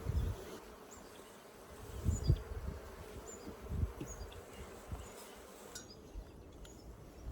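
Honey bees buzz steadily around an opened hive during a beekeeping inspection. The drone is faint and continuous, with a few low thuds from handling equipment.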